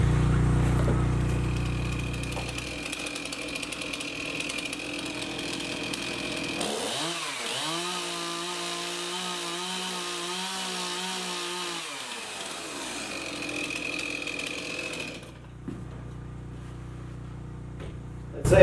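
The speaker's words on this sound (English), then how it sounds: "I'll have to do that with a chainsaw" A chainsaw engine idles, then revs into a steady high whine as it cuts through wood for several seconds before dropping back and cutting off, close and prominent.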